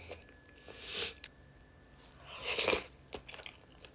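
Someone eats soup dumplings topped with chili crunch, making two close, distinct crunchy bites and some soft chewing in an otherwise quiet room.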